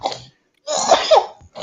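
A baby girl who attends daycare coughs in two bursts separated by a short pause, close and fairly loud, the second a longer cluster of hoarse hacks.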